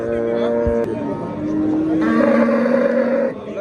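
A cow at a busy livestock market gives a long, loud, drawn-out moo close by, over crowd murmur and bargaining voices.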